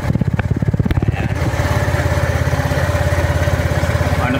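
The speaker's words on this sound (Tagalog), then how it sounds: "Pero overall, ang ganda po ng tunog ng kanyang muffler." A 2024 Motoposh Evo 150 V3 motorcycle idles through its muffler with a loud, close, rapid, even thumping exhaust pulse, briefly blipped at the start before settling into a steady idle.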